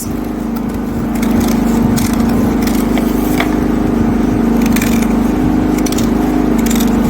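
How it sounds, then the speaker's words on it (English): A generator runs close by with a loud, steady mechanical drone and a constant hum, while light clicks and handling noises from paper cutting sit on top of it. "I'm using a generator. I know the noise is a bit unfriendly"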